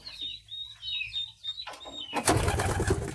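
Two male local pigeons coo in low, throaty murmurs close by. A burst of broadband rustling or scuffling takes over during the last second.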